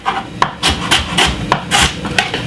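Knife chopping half a white onion finely on a cutting board in a home kitchen, a run of about nine crisp, close chops in an uneven rhythm, with no talking.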